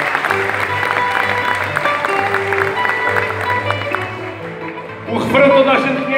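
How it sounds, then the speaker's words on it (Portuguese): Audience applause at a fado show in Peniche, a dense continuous clapping wash under music and a voice, then a fresh louder burst near the end. "Um grande salve de palmas para vocês mesmos,"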